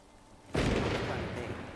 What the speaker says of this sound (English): Oh, I hate thunder! Stop being so loud.